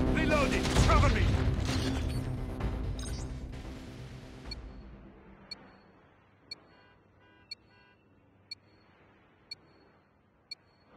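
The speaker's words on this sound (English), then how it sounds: "Reloading! Cover me!" A gun reloads in the Call of Duty Mobile video game: a dense burst of mechanical racking and clatter fades, then gives way to a sequence of crisp, evenly spaced ticks, close and isolated, with game voices faintly present.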